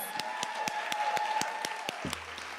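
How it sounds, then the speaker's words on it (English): Audience applause at an event on women's economic empowerment, a steady wash of clapping from a moderate distance with a few distinct claps standing out, under a sustained tone. "Can you give a round of applause?"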